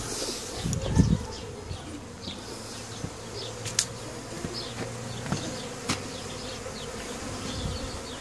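Bees swarming around honeycombs at a house, a continuous close buzzing with individual insects zipping past the microphone, a low droning hum underneath and faint birds in the background.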